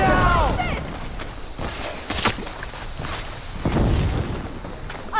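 Gunfire from the video game Horizon Forbidden West, several sharp bursts and booms scattered through a busy, dense mix of combat noise, with a voice calling out at the start.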